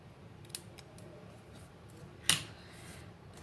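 Scissors cut paper while making fall cards, with a small snip early on and a sharp louder cut near the middle against a quiet room.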